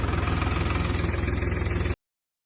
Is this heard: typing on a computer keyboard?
no